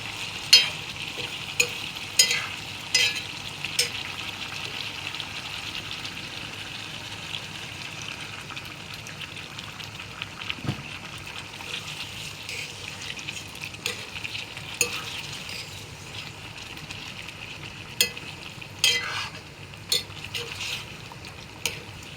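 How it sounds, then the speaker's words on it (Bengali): Chicken pieces cooking dry-style with spices in a pan sizzle continuously up close, punctuated by scattered clicks and scrapes of a stirring utensil, with no one speaking. "এখন আমি মাংসটা কষে নিয়েছি, এবার দিয়ে দিব আমি মশলাগুলো"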